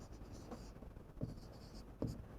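Pen on paper in a maths notebook while an answer is written down: a few soft, brief scratchy strokes spaced irregularly against quiet room tone, faint and close, with no voice.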